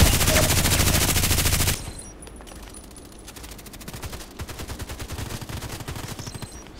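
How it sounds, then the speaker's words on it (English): A machine gun fires in the online shooter Contract Wars: a loud continuous burst at first, then after a brief drop, rapid steady rounds resume at a slightly lower level, with no talking. "let's compete with another big thing, which is this lovely machine gun."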